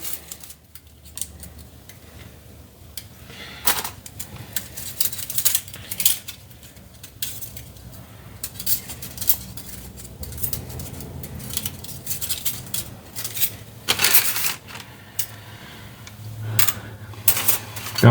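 Small metal hose clamps are handled and sorted by hand, making bursts of close, sharp jingling and clinking in an uneven rhythm between quieter pauses, with no talking.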